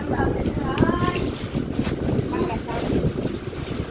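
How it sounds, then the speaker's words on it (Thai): Strong outdoor wind buffets the microphone with a steady loud rumble throughout, while people talk over it. "ลมเย็นดีจ้า"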